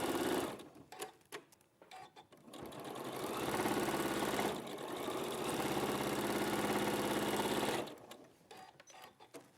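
A sewing machine stitches small trimmed fabric pieces, starting with short stop-start bursts and then running fast and loud for several seconds at a steady whir before it stops and the short bursts return.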